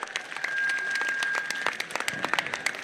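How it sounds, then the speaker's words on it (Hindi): Crowd at an outdoor political by-election rally in Anta clapping and cheering in a steady, dense burst of applause with sharp hand-clap transients, fairly close and continuous throughout. "जोरदार स्वागत, तालियों के साथ स्वागत करें।"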